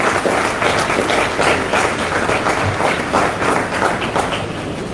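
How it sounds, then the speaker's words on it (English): A crowd applauds the organizers of a rugby tournament in Tobago, with steady dense clapping that carries on for the full stretch without a break. "I think we should give them a round of applause."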